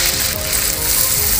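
Soaked poppy seeds and their water are poured into a hot frying pan with sautéed almonds and cashews for shahi paneer, giving a loud, steady sizzling hiss for about a second and a half.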